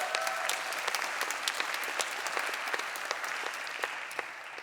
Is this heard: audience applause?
yes